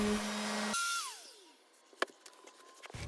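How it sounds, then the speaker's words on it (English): Electric sander running on wood during an RV interior renovation, a steady loud whine that cuts off abruptly and winds down, followed by quieter knocks and handling sounds. "I used the sander right here"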